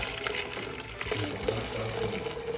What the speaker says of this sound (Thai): นี่ใส่ไปนะครับน้ำซุป